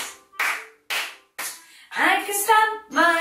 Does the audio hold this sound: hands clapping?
yes